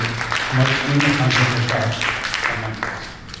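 Applause from an audience at a political dinner gathering, a steady wash of clapping lasting a few seconds with talk running over it.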